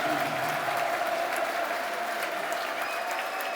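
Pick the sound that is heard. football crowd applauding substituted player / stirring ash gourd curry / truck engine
football crowd applauding substituted player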